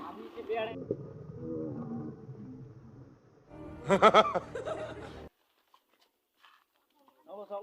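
A cow gives a loud, drawn-out moo with a harmonic, nasal tone, close by, framed by people talking and chuckling before and after, then quiet.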